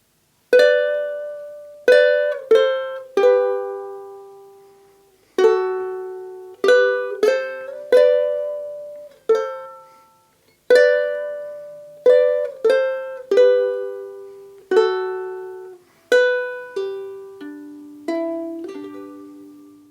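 Plucked ukulele notes ring out alone in a slow melody of "Hard Times Come Again No More," played as a duet on high and low G ukuleles. Each note decays softly, with short pauses between phrases.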